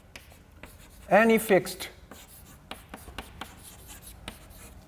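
Chalk scratches and taps on a board during a statistics lecture, short strokes scattered through the clip, fairly near, with one brief spoken phrase partway through.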